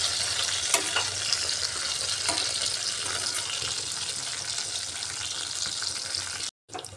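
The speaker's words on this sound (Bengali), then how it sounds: "মাছগুলো কড়া করে ভেজে নিয়েছি," Rohu fish pieces fry crisply in hot oil in a pan, giving a dense, constant sizzle with a few faint clicks, close and loud until a brief cut near the end.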